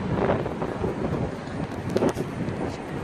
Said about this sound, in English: the rain is sure blowing sideways